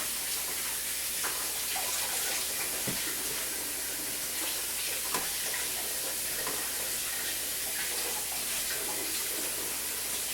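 Cold water runs steadily from a kitchen tap as pie crust is being made, a constant close hiss with faint clinks.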